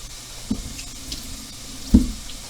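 Kitchen tap water running over broccoli in a sink, a soft steady trickle with two louder splashing thuds as the florets are handled, close and quiet with no talk.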